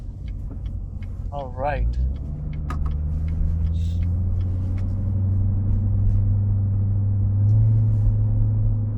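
A Corvette Z06 C7 engine rumbles steadily from inside the car while driving, a deep low drone that swells slightly toward the end, with someone speaking briefly over it.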